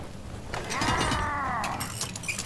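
A resupply pod mechanism in the video game Deep Rock Galactic clanks and whirs open, a creaking, ratcheting run of gears with a rising and falling mechanical whine, close and fairly loud, with no talk.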